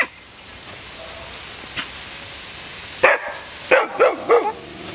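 A big dog barks outdoors, a few loud sharp woofs in quick succession after faint earlier yips, over a soft rain-like background hiss.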